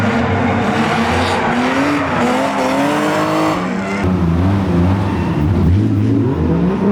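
A Mazda Miata drifts through a manji section, its engine revving hard under continuous, loud tire squeal that swells and shifts pitch with each direction change, with no talking.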